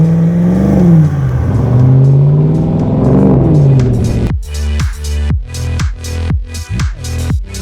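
A restored 1997 Land Rover Defender D90 soft top with a 430 hp LS3 V8 and six-speed automatic, loud and close, revving in a long rising and falling sweep before a series of sharp, stuttering throttle blips.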